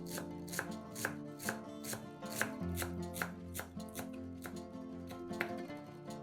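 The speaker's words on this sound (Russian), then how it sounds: "Пучок зелени нарезаем ножом." Knife chopping a bunch of fresh parsley and dill on a board, quick sharp taps in an uneven rhythm, close and clear, with no talking.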